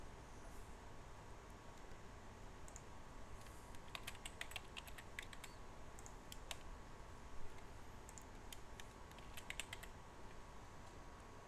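Quiet clicks of computer-keyboard typing come in short irregular bursts as a product name for a women's t-shirt is entered, with a low steady hum underneath.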